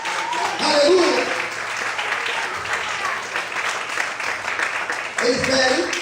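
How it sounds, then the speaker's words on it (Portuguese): A church congregation applauding, a dense sustained wash of clapping that swells and carries on for several seconds, with voices mixed into the crowd noise. "Você pode aplaudir para Deus."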